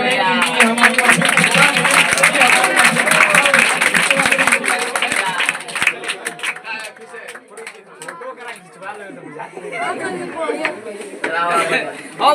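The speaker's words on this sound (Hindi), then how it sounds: "तालियों के साथ स्वागत करें क्योंकि हमारी" Applause from an audience greets guests arriving on stage at a board office event for class 10 and 12 toppers, a dense loud clapping wash that fades after about five seconds into crowd chatter and voices.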